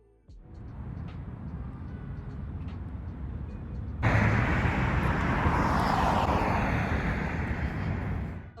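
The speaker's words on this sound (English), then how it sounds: "the birds and the traffic isn't too loud out here" Outdoor road traffic during a summer walk: a low, steady rumble of vehicles that swells sharply about halfway through as a louder vehicle passes near, then stays broad and constant.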